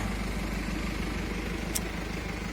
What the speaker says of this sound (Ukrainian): Мотор я ще покажу як працює, він зараз працює.